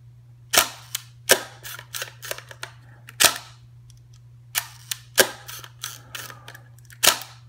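A Hasselblad 500CM camera fires its shutter at a quarter-second setting, a series of sharp mechanical clacks and snaps repeating close to the microphone, each release followed by smaller clicks, over a faint steady hum with no talk.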